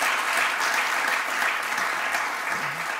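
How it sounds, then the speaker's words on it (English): A conference audience applauds steadily for the full stretch, a dense, even wash of clapping from many hands at moderate loudness, with faint voices underneath near the end. "Da kann man noch mal applaudieren"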